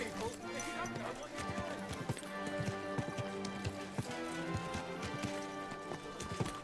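Horse hooves gallop in the video game Kingdom Come: Deliverance 2, a fast, close clip-clop running steadily through a crowded scene while townspeople shout and talk over it.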